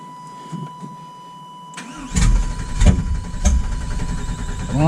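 An engine cranks after a quiet start, a loud close churning that keeps turning over without catching or settling into an idle.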